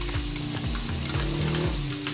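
Chicken liver adobo stirred in a pan, a steady sizzle with soft scraping strokes repeating about every half second, close and continuous with no talking.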